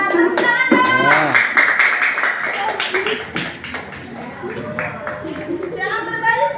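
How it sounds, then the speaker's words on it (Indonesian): A group of primary school children claps hands in short uneven bursts in a classroom while their voices talk and call out over it nearby. "Tepuk tangan dong."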